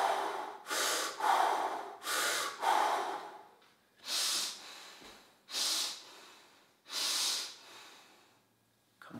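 Slow, deep breaths drawn in and let out during a fascial finger release exercise, seven long airy swells with quiet pauses between them, close and alone with no talking.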